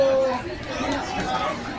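Crowd chatter fills a busy local arts and authors event, a dense, close babble of many overlapping voices with no single speaker standing out.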